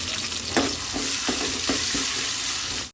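Ginger garlic paste fries in hot oil for pepper chicken, giving a steady close sizzle with several soft stirring scrapes spaced through it, no voices.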